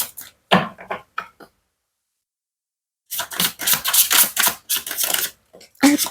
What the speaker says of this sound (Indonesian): Jatuh semua kartunya.